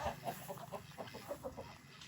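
Farm chickens cluck softly in a quick, uneven series of short calls, faint and somewhat distant over a light background hiss.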